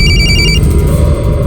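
A telephone rings with a brief electronic trill of rapid repeated tones that stops after about half a second, heard over loud low background rumble and music.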